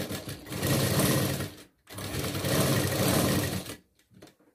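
Sewing machine stitching around a round neckline, two long loud runs of fast motor whirr and needle chatter with a brief pause between them, then a few short stops and starts.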